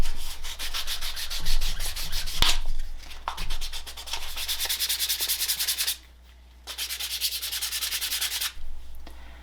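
Rough, steady sanding along the edge of a piece of leather: rhythmic scraping strokes that pause briefly near the middle, fairly loud and close with no talk.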